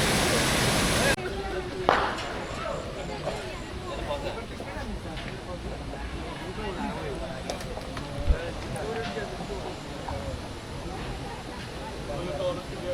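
Waterfall at Nafakhum in Bandarban, a constant broadband rush of falling water that stays steady and fairly loud, with occasional knocks and people talking over it.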